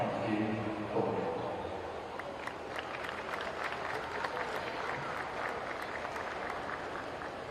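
Steady, moderately distant applause from the audience at a swimming championships venue, continuing evenly throughout with a faint low murmur underneath and no speech.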